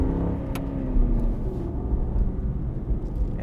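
An Aston Martin V8 Vantage sports car engine hums steadily from inside the cabin while cornering, a continuous low drone with a mild swell in revs and no talk over it.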